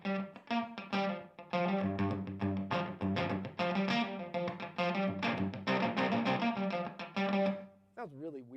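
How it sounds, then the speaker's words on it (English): Electric guitar played low on the neck through a ring modulator pedal, producing a run of choppy, metallic, bell-like notes with a strange clangorous edge, closely miked and fairly loud, ending with a brief warbling tone. "it's a ring modulator sort of thing."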